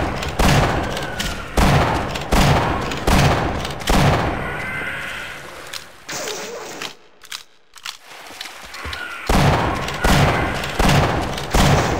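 Gunfire in the Half-Life co-op video game, set in Xen: loud, booming shots in a regular repeating rhythm, pausing briefly in the middle before resuming, with a voice heard faintly.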